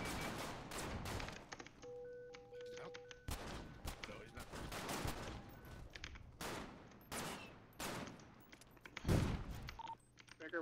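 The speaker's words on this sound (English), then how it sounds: "Shots fired inside, two suspects." Gunfire erupts inside a warehouse in a roleplay shooting game, with repeated sharp shots and rapid bursts spaced across the moments, loud and echoing, with brief voices between volleys.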